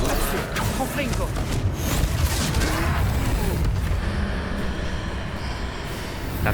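A Confringo fire spell explodes in Hogwarts Legacy during a fight against a giant troll, giving a loud, dense booming blast that rumbles on among steady game noise for several seconds.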